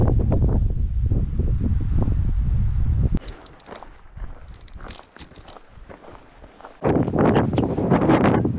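Gusts of afternoon wind on a hike around Mont Lozère roar and buffet the microphone in heavy bursts, dropping briefly to a quieter stretch with footsteps before the rumble returns.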